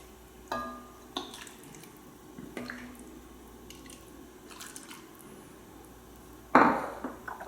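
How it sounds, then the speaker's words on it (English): Keto goat stew spooned into a bowl, with a few soft wet squishes and clinks of the utensil spread apart, then a sharper louder scrape or clatter near the end, all fairly quiet and without talk. "you just put it into a bowl."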